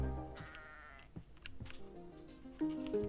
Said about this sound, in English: I hear some sheep.